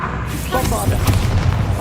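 Spell blast from the Bombarda curse in Hogwarts Legacy, a deep booming explosion rumbling loudly through the whole moment, with a voice speaking over the roar.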